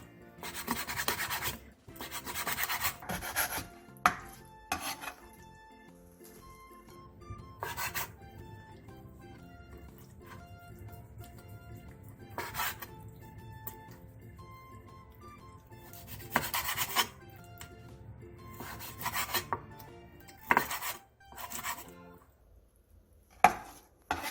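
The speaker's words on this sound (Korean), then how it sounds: "다리 방향으로 길게 반으로 자른 뒤 다시 반대 방향으로 뒤집어 2cm 정도 두께로 잘라주세요" A knife on a cutting board slices squid, halved lengthwise and then cut into pieces about 2 cm thick, with repeated soft chops and scraping strokes in irregular bursts, close and fairly quiet with no talk.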